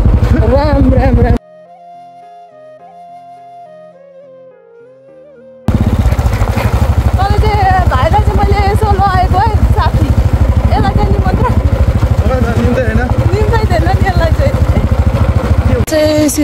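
A Bullet motorcycle rides along a road, its engine making a loud continuous rumble that drops out briefly for a quiet musical passage, then returns with a voice talking over it.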